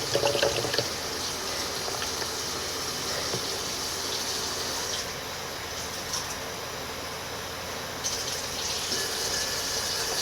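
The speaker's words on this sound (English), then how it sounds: "We fill it up with water." Tap water steadily runs into a drink carton for a keto shake, a continuous close, even gush of water filling the container throughout with no talking.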